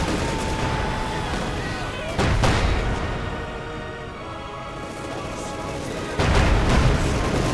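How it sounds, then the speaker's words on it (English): Heavy mortar barrage in Company of Heroes 2, a 2v2 match, with dense crackling battle noise throughout and two louder booming impacts landing a few seconds apart. "Mortar rounds going down here."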